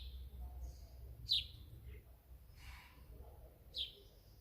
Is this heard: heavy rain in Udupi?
no